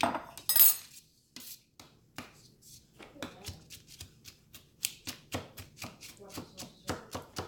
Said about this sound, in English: And you do want to fine chop.